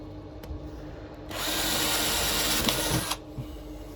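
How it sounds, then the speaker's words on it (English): A power drill whirs loudly for under two seconds, biting into a table to make a cable hole, with quieter handling noises before and after. "Drill that there."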